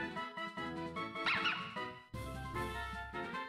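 A puppy Pokémon's electronic cry plays in the video game Pokémon Black, a short series of synthesized yapping barks and squeaky chirps, clear and fairly quiet, with no talking.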